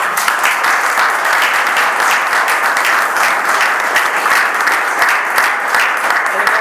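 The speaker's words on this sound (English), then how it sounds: "We owe them a round of applause" Audience applause for first responders at a community event, a sustained crowd of hands clapping with crisp individual claps audible in the steady roar, loud and even throughout.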